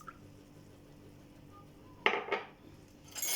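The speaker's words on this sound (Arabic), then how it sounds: "نحركوهم مزيان ينسجموا" A spoon stirs warm water and milk with yeast and sugar in a bowl for sandwich bread dough, giving a couple of quick clinks and scrapes against the bowl midway and another brief scrape near the end, in a quiet room.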